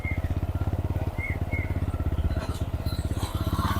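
A motorcycle engine runs nearby with a steady, low, rapid chugging pulse that holds evenly throughout, with no speech over it.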